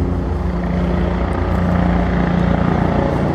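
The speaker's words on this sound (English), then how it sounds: "you can hear my helicopters in the background" A steady, loud rotor drone of helicopters fills the air nearby, constant throughout with no voices.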